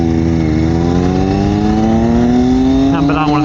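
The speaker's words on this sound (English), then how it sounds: "Nico, I'm on a Triumph Daytona Moto2" A Triumph Daytona 765 Moto2 motorcycle revs loud and close, its engine pitch climbing steadily through a gear before a quick shift near the end.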